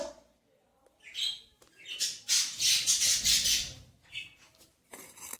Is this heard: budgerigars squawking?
yes